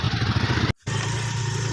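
A motorcycle engine rumbles steadily and close at hand as bikes roll one by one off a ferry near Doul Govinda temple, with a brief gap of near silence midway before the engine noise resumes.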